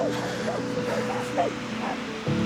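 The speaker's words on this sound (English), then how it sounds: "Oh, wonderful, more dogs." Dogs barking repeatedly at a distance on a coastal walk on the Hel Peninsula in Poland, a series of yips and barks over steady outdoor background noise.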